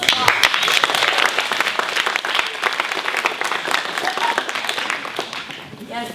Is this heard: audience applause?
yes